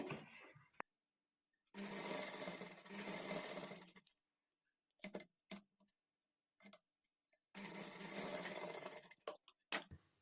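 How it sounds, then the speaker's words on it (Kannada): A sewing machine with a normal foot stitches invisible thread piping onto cloth: several bursts of rapid mechanical clatter a few seconds long, separated by silent pauses and scattered short clicks, close and alone. "ಈ ಥ್ರೆಡ್ ಪೈಪಿಂಗ್ ಕ್ಲಾತನ್ನು ಈ ರೀತಿ ಇಟ್ಕೊಂಡು ಸ್ಟಿಚ್ ಮಾಡ್ಕೊಳ್ಬೇಕು"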